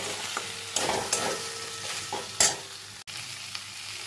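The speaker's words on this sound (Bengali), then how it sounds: "এবার এর মধ্যে আমি তিল ও পোস্ত বাটাটা অ্যাড করে দিলাম, দিয়ে সব কিছুর সঙ্গে ভালো করে মিশিয়ে নেব।" Fried ridge gourd with sesame and poppy seed paste sizzles steadily in a pan while a spoon stirs and scrapes through it in bursts, close up and without speech.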